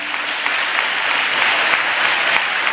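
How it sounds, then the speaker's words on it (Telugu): A church congregation claps steadily, a dense, loud patter of many hands during a sermon that fills the whole stretch with no voices on top. "చప్పట్లు కొడుతూ స్తోత్రాలు చెప్దాం"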